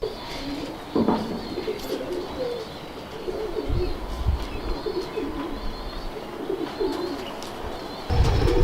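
Cheena pigeons coo in a soft, continuous rolling murmur, with a few dull knocks and shuffles near the start and end.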